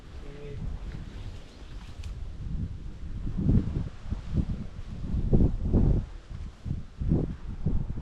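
Wind gusting outdoors around an old square-body pickup, a steady low rushing and buffeting with swells and surges, under occasional speech.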